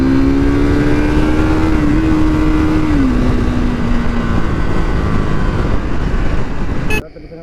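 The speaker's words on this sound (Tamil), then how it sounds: "வண்டி பயங்கரமாக உரும்புது." A Triumph Thruxton 400 motorcycle engine runs loud and close with a steady throaty drone, its pitch wavering slightly then dipping, before cutting abruptly to quieter background near the end.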